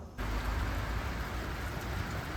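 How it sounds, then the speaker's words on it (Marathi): Heavy rain starts suddenly and keeps pouring as a dense, continuous hiss and roar, loud and close. "खूप मोठा असा पाऊस आला"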